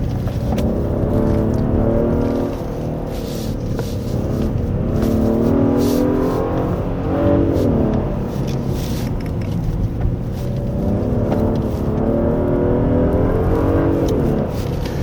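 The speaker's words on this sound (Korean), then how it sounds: "높은 RPM으로 계속 주행을 하니까 이 엔진 사운드와 액티브 사운드 디자인이 합해서 내는 소리는" A 2024 Genesis G80 3.5 turbo AWD engine revs hard at high RPM, blended with active sound design, a loud sustained roar with rising and falling pitch sweeping throughout on a winding road.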